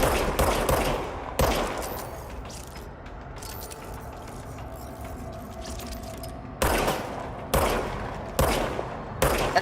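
Gunfire from a gun in Control comes in sharp, loud bursts of rapid shots at the start and end, with a quieter stretch of humming ambience and mechanical clatter between the volleys.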